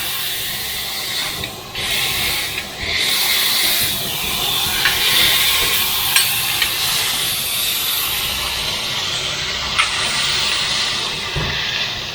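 Smash burger patties, beer-smashed, sizzle on a hot griddle in a steady, loud broadband hiss that runs unbroken throughout, with a few faint scrapes and clicks over it and no talking.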